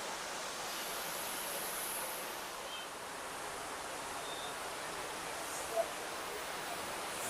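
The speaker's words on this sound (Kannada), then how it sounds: "ಕಾವೇರಿನೇ ಈಗ ಇಲ್ಲಿಂದ KRS ಗೆ ಹರಿತಾ ಹೋಗ್ತಾ ಇರೋದು" The Kaveri river rushes over Chunchanakatte Falls in Karnataka, swollen with fresh rainwater, producing a continuous broad, roaring wash of water that stays steady and fairly loud throughout, with no speech.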